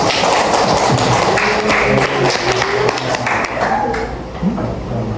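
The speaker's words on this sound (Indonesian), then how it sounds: "Kita kasih aplaus." A class of students claps in a classroom lesson, a loud, dense patter of hands running throughout, with voices talking and calling out over the clapping.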